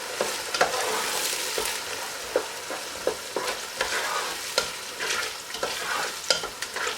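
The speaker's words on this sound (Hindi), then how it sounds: "ठीक है, अब इसमें आपने ऐड करना है जो हमने मसाला ग्राइंड किया था, ये तमाम बीच में जाता है। तो अच्छी तरह मिक्स कर लेते हैं।" Ground masala stirred into chicken curry in a pan, a spoon scraping and knocking in an irregular rhythm over a continuous close sizzle of frying.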